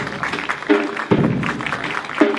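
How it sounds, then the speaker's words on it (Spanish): Applause from a crowd at a school parade for Independence Day, steady clapping running through the whole stretch with a few louder bursts standing out. "Fuerte los aplausos."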